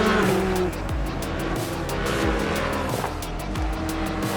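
Race cars at Circuit Zandvoort during a Dutch Racing Trophy event, loud engines roaring continuously with rising and falling revs and gear shifts as cars pass close by.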